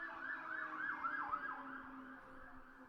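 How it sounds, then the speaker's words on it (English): A wailing siren warbles in the distance, faint and muffled, fading gradually as it passes. "there's the freaking sirens"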